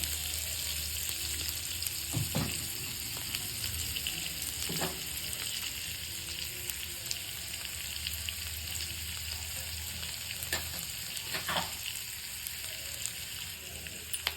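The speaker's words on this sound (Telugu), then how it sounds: "ఇదిగోండి ఉల్లిపాయలు, పచ్చిమిర్చి. ఇది లైట్గా ఫ్రై." Onions and green chillies fry lightly in oil, a continuous close sizzle with occasional louder crackles and spatter bursts throughout, with no talk.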